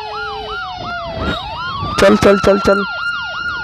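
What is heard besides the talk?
ambulance siren stuck in traffic jam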